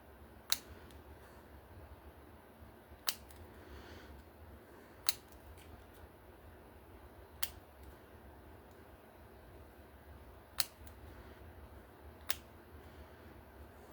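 Scissors cutting holes in plastic canvas for a butterfly sun catcher: six crisp, isolated snips spaced a couple of seconds apart over a quiet room, with no talking.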